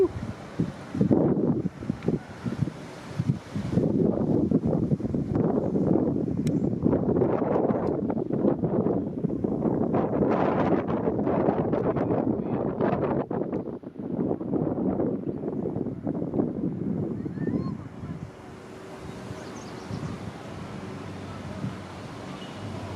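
Wind blows hard and steadily across a model Nimitz-class aircraft carrier sailing on water, a loud, close rush of buffeting microphone noise for most of the stretch before easing near the end.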